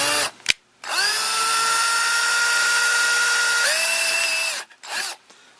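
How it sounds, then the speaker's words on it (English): A power drill bores a pilot hole into a Commodore 64 case with a loud, sustained high whine lasting several seconds. Its pitch shifts partway through, and short spin-ups come before and after. "So we're going to drill a pilot hole here"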